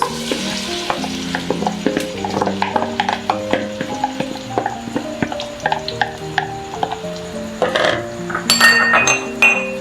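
Loud sizzling and crackling of chopped onions frying in hot oil in a wok, with occasional clinks of a utensil stirring in the pan.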